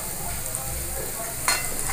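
Potatoes frying golden brown in oil in a pan, a steady close sizzle with a brief louder crackle of stirring partway through.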